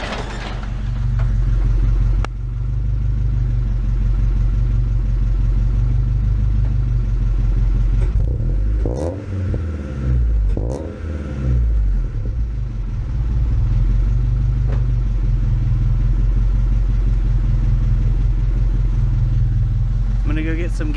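Honda D16 engine fitted with a Jasma race cam, heard from behind the car: a loud, lumpy idle with uneven pulsing and a few brief revs in the middle.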